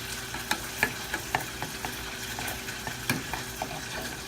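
Hot wing sauce and melting butter simmer in a pot while a spoon keeps stirring, giving a soft steady sizzle punctuated by quick light clicks and taps of the utensil against the pan.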